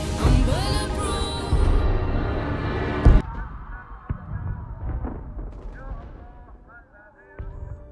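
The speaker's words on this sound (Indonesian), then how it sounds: "dia melihat ribuan peluru dan bom melesat jatuh menghancurkan kota mereka" Heavy booming blasts of bombs and crackling gunfire striking a city rumble through the opening seconds with a big impact near the middle, then scattered bangs trail off; a voice speaks over it.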